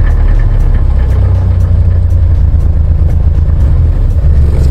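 An old Mercedes-Benz camper van engine idles steadily after starting, a loud, close, continuous low rumble with a faint rhythmic knock and no talking.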